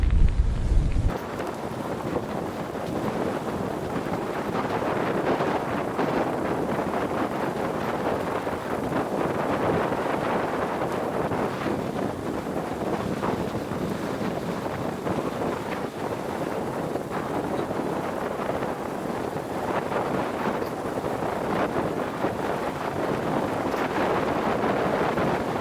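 Steady, loud wind buffeting the microphone while cycling across smooth, partly rough lake ice, a continuous broadband roar over the whole stretch with no talking.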